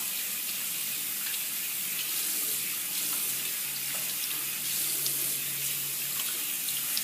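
Tap water running steadily into a sink while a skin product is rinsed off, a continuous close hiss with no talking.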